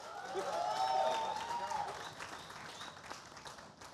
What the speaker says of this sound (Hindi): जोरदार तालियां हो जाए फॉर इरफान पठान एंड यूसुफ पठान